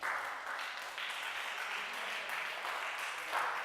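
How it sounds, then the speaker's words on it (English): A conference audience claps together in a room, a steady, dense wash of applause held at an even level for several seconds, heard from some distance with no talking over it. "So what you need to do is raise up your hand like that. Raise up your hand. Okay, cool. Good, good, good. And start to clap."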